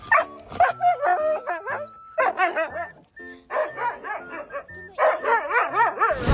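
A pet dog greets its arriving owner with a close, loud run of barks, yips and whimpering whines in quick uneven bursts, with no talk over it.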